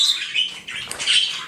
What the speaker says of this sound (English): It's my budgies. See how loud they are?